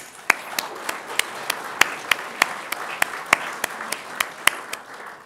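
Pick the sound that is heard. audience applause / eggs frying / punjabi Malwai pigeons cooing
audience applause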